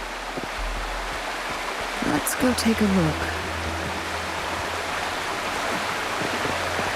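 Steady broadband rush of a waterfall in the video game Wuthering Waves, a constant even wash filling the background while a voice speaks briefly over it.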